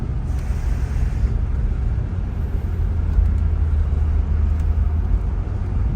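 An older big American car climbs a long hill at about 35 mph, its steady low engine drone and road rumble filling the cabin continuously and loudly, with no talking.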